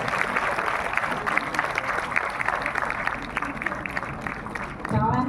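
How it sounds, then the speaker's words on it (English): Audience applause at a space quiz grand finale, a dense, steady wash of clapping that runs loud throughout before a brief shift near the end. "Can we have a big round of applause for him?"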